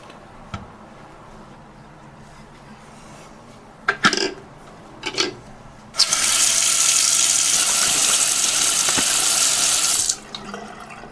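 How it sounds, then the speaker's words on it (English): A repaired Moen Adler bath faucet, preceded by a few faint clicks and handle clunks, then a steady loud rush of running water that lasts about four seconds and stops abruptly. "now we're ready to turn the water on and test it out"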